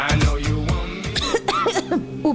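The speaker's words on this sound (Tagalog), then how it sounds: "Ubo, plemang nakabara, hirap sa paghinga." Several harsh, chesty coughs from one person in a broadcast cough medicine advert, close and loud, breaking into a short run of rapid hacks with a strained, phlegmy tone.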